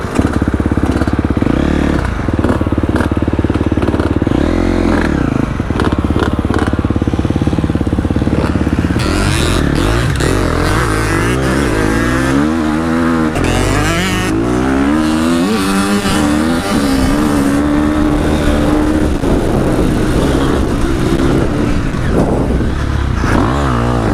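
A 250 FC dirt bike engine revs hard and repeatedly on a dirt track, loud and close, with sharp throttle blips and sustained high-revving bursts throughout.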